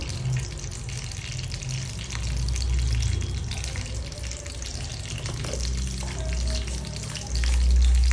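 Curry leaves fry in hot oil, a continuous crackling hiss with low bubbling bursts that swell and ease, heard close with no talking.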